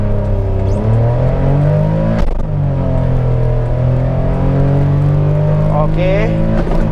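A manual car makes a launch start, its engine held near 4500 rpm before the clutch is released, giving a loud, continuous revving drone that rises and shifts pitch, heard close from inside the cabin.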